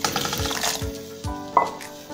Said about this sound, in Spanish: se van a agregar lo que sería aquí nuestros chiles para que se vayan reblandeciendo